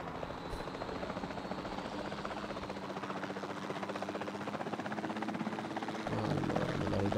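A helicopter flies under direct control in the dinosaur park game Jurassic World Evolution 2, its rotor chopping in a steady, loud, continuous throb that thickens slightly toward the end.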